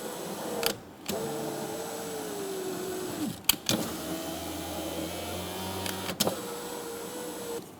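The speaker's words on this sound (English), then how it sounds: "Test to see if the window works." A power window motor in a 2007-2012 Nissan Altima door hums steadily as the glass travels. There are clicks and clunks at each stop and reversal, and the whirring repeats over several cycles, close and fairly loud.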